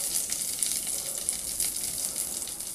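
Dry red chillies sizzle in hot oil with curry leaves for sambar, a steady, bright frying hiss that crackles on without a break.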